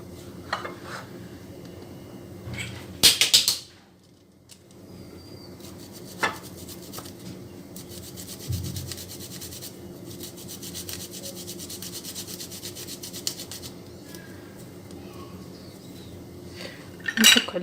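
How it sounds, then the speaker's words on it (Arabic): A garlic clove is rubbed against a metal grater in a home kitchen, giving a long stretch of soft repeated rasping. A brief sharper clatter of utensils comes early on and a few light knocks follow, with no talking. "ونحك واحد الثومه"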